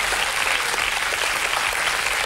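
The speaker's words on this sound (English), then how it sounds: "that deserves a round of applause" A studio audience at a 1990 dating game show breaks into a round of applause, a steady, dense patter of clapping throughout.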